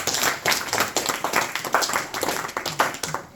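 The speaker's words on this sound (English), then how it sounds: "please give a round of applause" A small devotional group at a Bhagavad Gita study gathering claps in a loose, uneven round of applause, moderately loud and irregular, with a faint voice briefly underneath.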